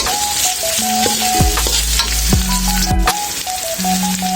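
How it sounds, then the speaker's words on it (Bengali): Chopped garlic and green chillies fry in a pan, a loud, close, steady crackling sizzle with a faint electronic tone pattern running underneath and no talking. "এখন এটাকে আমি ভালোভাবে ভেজে নেব।"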